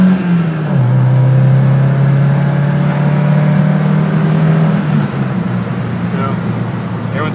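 Car fitted with a Weber 32/36 carburetor pulling hard toward 60 mph, with a steady, loud engine drone that rises slowly in pitch across several seconds and has a faint whir beneath it.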